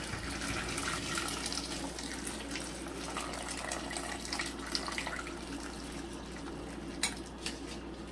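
Water runs and splashes steadily into a pot for palabok sauce, a continuous close pouring sound with faint clinks of cookware near the end.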